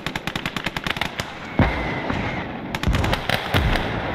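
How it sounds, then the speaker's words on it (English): Mortar rounds bursting in the World War II game Gates of Hell: Ostfront, with rapid crackling gunfire up front followed by several heavy, booming impacts at close range. "There we go, rounds are hitting."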